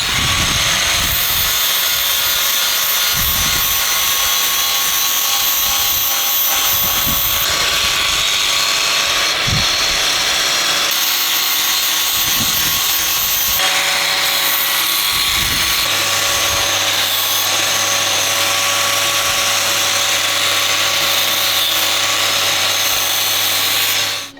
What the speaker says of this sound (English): I can grind the surface down, and I think I'd be happy with that.